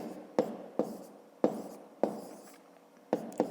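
A pen or pencil writes numbers by hand on paper during a fifth-grade math exercise: six quiet, distinct taps and short scratches spaced irregularly over a soft background hiss.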